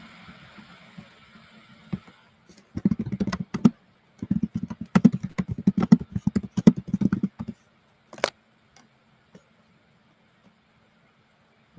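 Clacking keystrokes on a computer keyboard come in quick irregular bursts, fairly close and distinct, with pauses between runs and a few isolated taps at the end; no talking over it.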